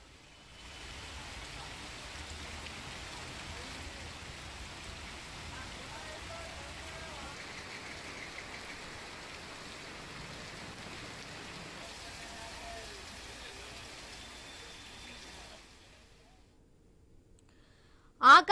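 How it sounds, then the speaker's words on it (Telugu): Heavy monsoon rain pours steadily over Hyderabad city during a thunderstorm warning, a dense continuous hiss of drops on surfaces that holds even for about fifteen seconds, then drops away to near quiet with a brief loud knock at the end. "ఆకాశానికి ఏమైనా చిల్లు పడిందా అనే విధంగా హైదరాబాద్ లో వర్షం దంచుకొడుతుంది"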